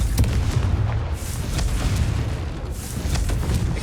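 Booming explosions from the Confringo spell in the video game Hogwarts Legacy roll on continuously as a dense, loud, low rumble with repeated thuds and bursts.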